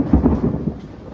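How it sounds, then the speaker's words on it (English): Heavy rain pours down with a low rumble of thunder, a dense, close wash of noise with rolling low booms and no voices. "It started raining now"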